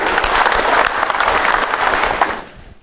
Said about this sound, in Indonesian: Tepuk tangan untuk para kandidat kita